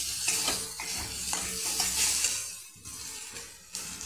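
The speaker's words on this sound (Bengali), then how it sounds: "দিয়ে ভালো করে নাড়াচাড়া করব" Spices with turmeric and cumin powder stirred around a hot frying pan, a spatula scraping repeatedly over a steady sizzle, close and moderately loud with no talk.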